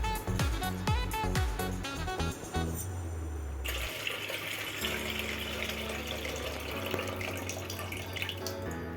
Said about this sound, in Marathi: एक कप घेतलेली तुरीची डाळ बाउलमध्ये घेऊन 2 वेळा स्वच्छ पाण्याने